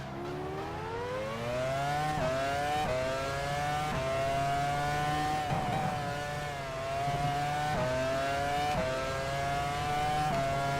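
An F1 car engine from the racing game F1 Challenge 99-02 revs loudly and steadily, its pitch climbing and then dropping sharply at several upshifts in a repeating pattern, heard alone without talk.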